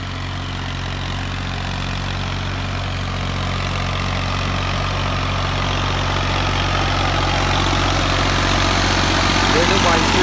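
A Massey Ferguson 35 tractor pulls a harrow through soil, its engine droning loud and steady at close range and swelling slightly toward the end.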